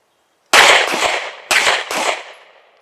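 Gunshots at an outdoor shooting range drill: three loud, sharp reports, the first two a second apart and the third quickly after, each trailing into a long echoing decay.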